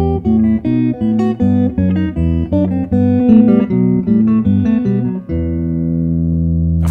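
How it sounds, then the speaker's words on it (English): A Bach Bourrée from a lute suite played on electric guitar with an added bass line, a steady stream of plucked notes over low bass tones, ending on a held, ringing chord with no talking. "When you add the bass, it sounds like this."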